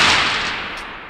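A single loud .22-250 rifle shot fired outdoors toward brush. The clip opens at full force, and the broad crack rolls off into a fading echo.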